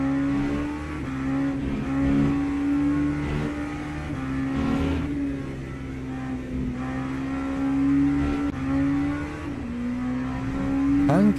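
LMP3 prototype race cars in Le Mans Ultimate at a Spanish circuit at sunset, heavy traffic, engines droning steadily at high revs with pitch shifts on gear changes and passing cars, loud and continuous throughout.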